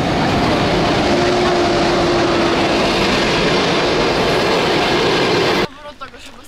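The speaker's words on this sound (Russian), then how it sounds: "Едет наш поезд." A train rumbles loudly past at close range with a steady roar and a faint whistle-like tone, then cuts off abruptly as voices talk near the end.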